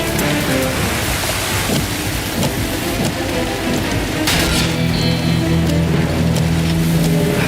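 A storm in a video game brings steady, heavy rain pouring down, loud and dense throughout, with deep low rumbles of thunder rolling underneath and no voices.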